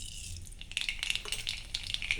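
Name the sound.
mustard seeds added to hot coconut oil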